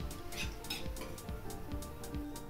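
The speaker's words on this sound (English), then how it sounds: "Now I'm going to remove the vadas." Fried sabudana vadas are lifted out of a frying pan, with quick metallic clinks and scrapes of a utensil against the pan repeating in a busy rhythm at a soft, close level.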